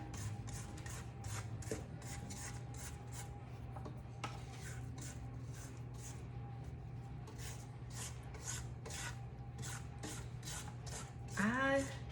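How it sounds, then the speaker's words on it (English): A rubber spatula scrapes the sides of a mixing bowl of 7-Up cake batter, giving soft repeated rubbing strokes in a steady rhythm over a constant low background hum. "I want to scrape my sides. I have my rubber spatula."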